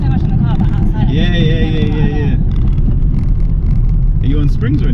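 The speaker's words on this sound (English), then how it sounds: "when you're driving, I can hear some mad like turbo noises" Stage 2 tuned BMW M235i driving, its engine rumbling loudly with whistling, fluttering turbo noises rising and falling, heard from inside the car with wind buffeting.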